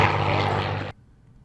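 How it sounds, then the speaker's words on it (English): A P-51 Mustang at an airshow roars with a loud, full propeller-engine drone that cuts off abruptly after about a second. "Most airshow fans will recognize the classic sound of the P51 Mustang"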